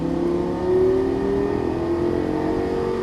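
A Lamborghini Gallardo LP-550 accelerates on a track, its engine a loud, sustained rising roar heard from inside the car for about three seconds, no talking.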